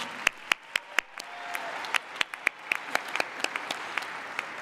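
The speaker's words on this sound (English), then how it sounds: "let's give a round of applause for the ESU Commencement Band and Brian Hodge" Scattered applause at a spring 2019 East Stroudsburg University undergraduate commencement, honoring the commencement band: a thin crowd of clappers with sharp individual claps standing out, steady and moderately loud throughout.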